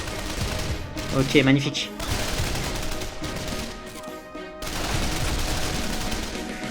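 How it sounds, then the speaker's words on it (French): Machine-gun fire rattles in bursts in the war game Men of War: Condemned Heroes, with battle noise throughout and someone briefly speaking over it. "On va aller dans la mitrailleuse tout court."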